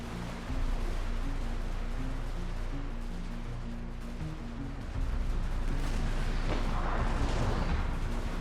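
Massed musket fire crackles in a crossfire during a Civil War battle between Confederates and a Union brigade in the Smoke & Steel RTS game, dense overlapping volleys and distant booms rolling continuously, swelling louder halfway through.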